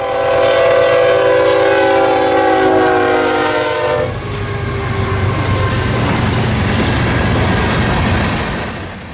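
FEC freight train 109 passing at the Harwood Pass track, a loud nearby horn blast over the heavy rumble of the locomotive, then the steady roar and rattle of cars rolling past.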